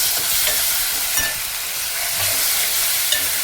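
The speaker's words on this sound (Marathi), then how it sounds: "आता आलं लसूण पेस्ट टाकत आहोत." Ginger, garlic, green chilli and curry leaf paste frying in a pan, a loud, bright steady sizzle with a few faint spoon scrapes.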